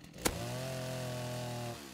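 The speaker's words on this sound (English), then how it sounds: "You'd think a chainsaw would have killed the chicken on the first hit." A chainsaw in the video game Rust strikes a chicken with one sharp hit, then holds a steady buzzing engine drone before cutting off.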